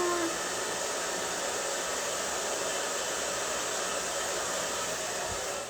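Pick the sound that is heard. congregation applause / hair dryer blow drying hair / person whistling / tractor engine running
hair dryer blow drying hair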